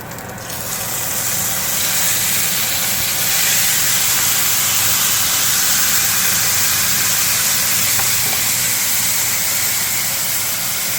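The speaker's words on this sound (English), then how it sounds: "then we'll toss that steak on there and sear it up in the pan" Steak searing in a hot pan, a loud continuous hissing sizzle that starts abruptly and holds evenly close up with no talk.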